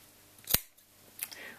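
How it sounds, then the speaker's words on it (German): A single sharp snip of scissors cutting through two layers of fabric at once, close and crisp, followed by a fainter second snip, with no talking. "Da kann ich gleich beide auf einmal schneiden."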